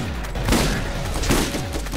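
Shotgun blasts in the Borderlands video game, two heavy booming shots about a second apart amid dense gunfire and combat noise, loud and close.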